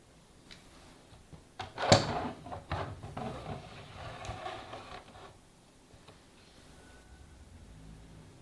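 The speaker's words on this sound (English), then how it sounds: "Now, let's slide the mini PC into the eGPU case." A mini PC slides into an eGPU case with a close clatter and thump followed by a series of scraping, knocking plastic and metal sounds as it settles, then a quiet stretch.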